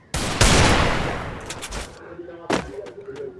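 Gunfire in a shooting video game: a loud, rapid burst of shots that fades out, then a few more separate shots, with faint talk in the background.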